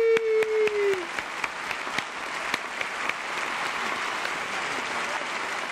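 Audience applause for a veteran blues-rock band, a broad steady wash of clapping that continues after a short musical tone fades in the first second.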